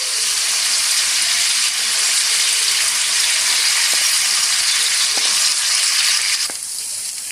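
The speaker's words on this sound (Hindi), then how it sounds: "हम लहसुन और अदरक को 2 मिनट में जो है वो प्याज के अंदर पकने देंगे अच्छी तरह से" Onions frying with garlic and ginger paste in a pot for naan and chickpea curry: a loud, dense, continuous sizzle, close and steady throughout, with a few faint utensil taps and no talk.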